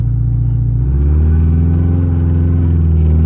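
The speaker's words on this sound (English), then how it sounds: "Slow-mo drifting." A Subaru revs hard as it drifts through deep mud, its loud, close engine rising from a low rumble into a steady, sustained roar with no talking.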